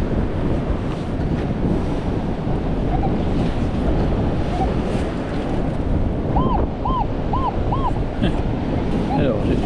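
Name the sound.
strong wind blowing on the microphone outdoors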